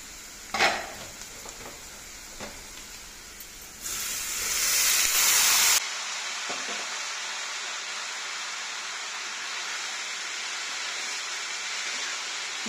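Onion and ivy gourd pieces fry in a hot tempering, giving a faint crackle first, then a loud surge of hiss as more goes into the pan, which settles into a steady, quieter sizzle.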